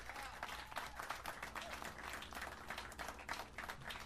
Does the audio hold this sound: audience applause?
yes